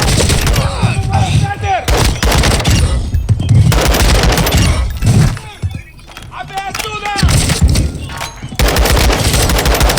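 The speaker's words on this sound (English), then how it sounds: "They're shooting through walls." Video game gunfire with soldiers shooting through walls, rapid bursts of shots and sharp cracks in dense, loud volleys that pause briefly midway before resuming.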